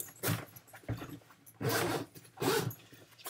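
A zipper on a 3DR Solo drone backpack is pulled open in three quick rasping strokes, close and fairly quiet, with short pauses between pulls.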